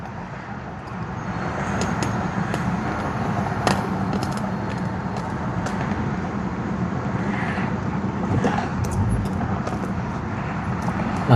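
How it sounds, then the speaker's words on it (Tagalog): Road traffic in a long, stalled traffic jam on a road in Canada, heard as a steady broadband rumble of idling and slowly moving vehicles with wind noise, continuous and fairly close throughout. "Ang taas, grabe, ang haba ng traffic."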